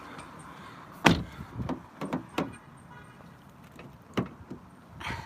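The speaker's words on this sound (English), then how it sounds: "Close the door here." A car door shuts near a mosque in Redmond, Washington, giving one sharp thump followed by a second fainter knock and a few light clicks against quiet outdoor background.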